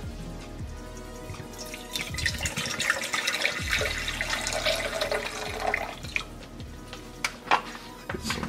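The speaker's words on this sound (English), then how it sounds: "Get some water in there." Water is poured into a Swedish mess kit pot outdoors by a campfire, a steady splashing and dripping trickle of liquid running close by for several seconds with no talk.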